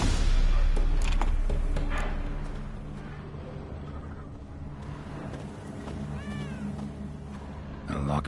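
A cat meows a few times amid background game ambience and music in The Witcher, moderately loud, with someone briefly talking.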